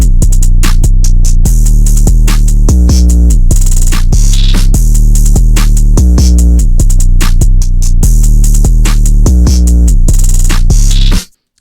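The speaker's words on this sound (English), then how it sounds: "All together, here's what the drums sound like." A loud, full trap drum beat with punchy kicks and crisp hits driving a steady groove over a deep, sustained bass, ending abruptly.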